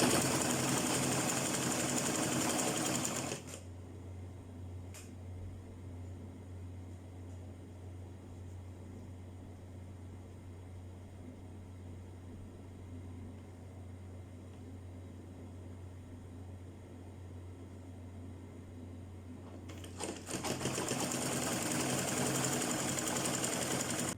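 Sewing machine stitching fabric for a turban, a loud steady whirring hum at the start and again near the end, separated by a long quiet stretch with only faint room hum.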